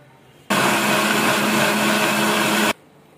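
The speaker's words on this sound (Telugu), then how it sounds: "మనం మిక్సీ వేసుకున్నాం కదా" A mixer grinder whirs loudly and steadily for about two seconds, blending lemon juice, ice cubes, salt and water, then stops abruptly.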